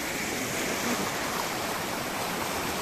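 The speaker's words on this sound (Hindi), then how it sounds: "ये देखो पानी का बहाव बहुत ही तेज आ रहा है" Fast-flowing river water rushes beneath the Kezanglwa bridge near Jalukie town, a steady broad roar of turbulent current, constant and fairly close with no pauses and no voices.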